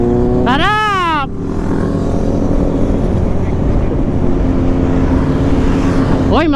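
Big-bike motorcycles, Ducatis among them, ride along an expressway during a group ride in Ilocos Sur, with a loud, continuous engine drone, a rising whine as one passes near, and excited voices shouting over it.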